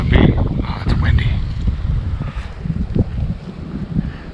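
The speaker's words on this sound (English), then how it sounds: "Oh, it's windy." Strong wind on North Manitou Island buffets the microphone with a constant low roar and rumbling gusts, loud and close throughout.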